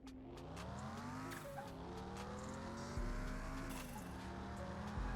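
Mitsubishi Lancer Evolution VII with four-wheel drive and about 400 horsepower, pushed hard in Car Mechanic Simulator 2021, its engine droning loudly and steadily as it climbs through the revs, with a shift and some tire squeal along the way.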